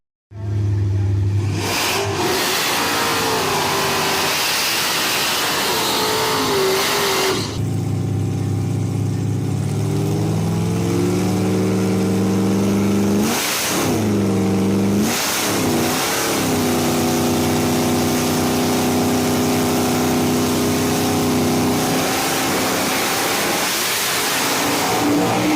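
A Dodge Demon drag racing a 2012 Mustang Cobra Jet, loud engines roaring and revving hard at launch, then rising through gear changes with sharp drops between shifts, sustained and close for the whole stretch.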